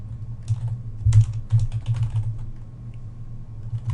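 Quick bursts of keystrokes clatter on a computer keyboard in short uneven runs while a label is entered in a spreadsheet chart, fairly close and soft, with a low hum beneath.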